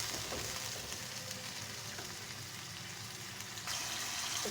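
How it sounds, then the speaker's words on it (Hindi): Mutton pieces fry in a pan with a chili paste, producing a continuous dense close sizzle with faint stirring scrapes, a slight surge near the end, and no voices. "तकरीबन 7 से 8 मिनट हो चुके हैं हमें गोश्त को भूनते हुए"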